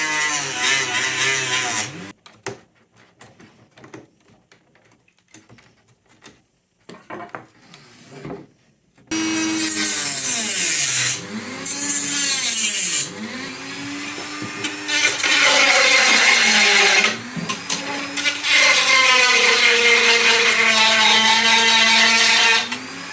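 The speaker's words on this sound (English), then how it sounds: "cutting it with a Dremel is really easy" A Dremel rotary tool whines loudly in bursts as it cuts and sands plastic, its pitch rising and falling, with a quieter stretch of scraping and clicks between.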